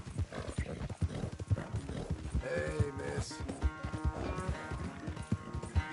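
Horse hooves galloping in the video game Red Dead Redemption 2, a rapid rhythmic clip-clop with a brief whinny and music underneath, plus a short spoken line.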